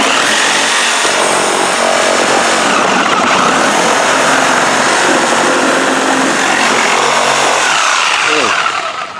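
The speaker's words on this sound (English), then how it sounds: "I'm going to use my Sawzall and see if I can cut this frame here." A Sawzall reciprocating saw cuts through the plastic housing frame of a lawnmower around its motor, a loud, continuous buzzing rasp that runs steadily for several seconds before tapering off near the end.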